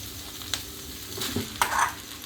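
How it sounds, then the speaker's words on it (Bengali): Boiled potato, fish and spices being stirred together in a pan, a short stretch of quiet sizzle with a few scraping strokes of the spoon. "একসঙ্গে সব কিছু ভালোভাবে মিশিয়ে নিতে হবে।"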